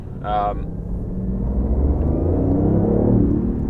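A 2016 BMW i8 hybrid engine rumbles and builds steadily as it accelerates, heard from inside the cabin with sound piped in, with a brief voice near the start.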